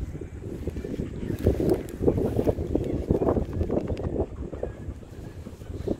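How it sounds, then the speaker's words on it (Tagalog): Gusty outdoor wind buffeting a microphone where a Labrador is playing, a steady rough rumble with irregular louder bursts throughout. "Medyo mahangin."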